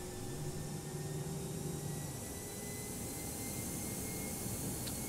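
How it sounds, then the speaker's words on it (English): Airbus A320 flaps extending to position 3 in a flight simulator, a low mechanical hum that runs about two seconds and then stops, faint beneath a steady broadband engine and airflow roar. "And here comes flaps 3."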